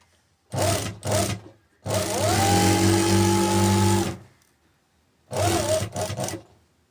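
A sewing machine stitches a shalwar closed along a 7.25-inch hem mark, running in three bursts: two short runs, one long steady whir of about two seconds, then two more short runs, loud and close with no talking.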